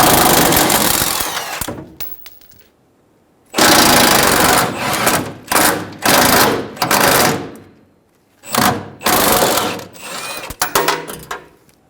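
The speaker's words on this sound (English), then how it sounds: "Using a 15mm socket, we're going to loosen the back bolt, but not fully remove it." Impact wrench loosening a rear bumper bolt on a 2005-2015 Toyota Tacoma with a 15mm socket, loud close bursts of buzzing rattle in several separate runs with short pauses between them.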